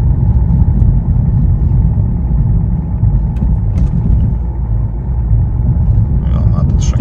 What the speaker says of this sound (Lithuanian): Jo, matot, šakinėja apsukas ir labai tampa automobilį.